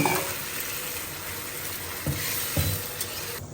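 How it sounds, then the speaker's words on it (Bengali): Mixed leafy greens frying in a pan give a constant close sizzle and hiss, with a couple of soft stirring knocks near the end. "শাক ভাজা করতেছি, পাঁচমিশালি শাক"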